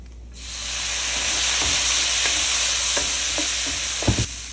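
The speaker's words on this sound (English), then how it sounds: "Now we fry the rice. Add some soy sauce." Rice frying in a pan with soy sauce for a Chinese savory pumpkin rice, a loud steady sizzle and hiss close by, with a few utensil scrapes and clacks of stirring toward the end.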